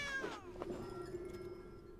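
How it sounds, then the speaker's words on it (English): A small, thin-voiced cat gives one short, rising-then-falling meow, close and clear, with a faint hum behind it. "Oh, it's a cat."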